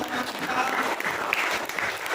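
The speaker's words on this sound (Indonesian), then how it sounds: "Berikan tepuk tangan untuk" A classroom group claps during a teaching-practice session, a lively, fairly close round of applause that keeps going steadily throughout.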